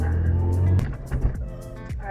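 Cars pass on a road at night outside a Honda Civic, heard from inside through a Vantrue Nexus 4 Pro dashcam: a steady low engine and road rumble with a few quick whooshes of passing vehicles.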